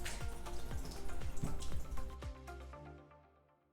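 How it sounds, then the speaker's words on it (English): Tofu is rinsed under a running kitchen tap, water splashing and dripping close by in a busy patter that thins out and fades away at the end. "We are going to cut tofu, but before we need to just wash it"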